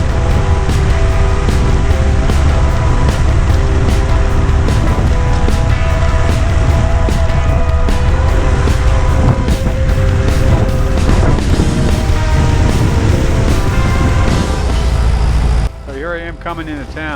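A 1919 Henderson motorcycle on a road run, ridden at about 35 mph, its engine droning steadily and loudly with wind rush before easing off near the end.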